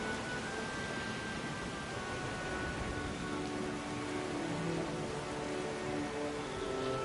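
Heavy, unending rain pours down in the video game Pillars of Eternity 2, a dense, even hiss of downpour with faint tonal ambience running beneath it throughout.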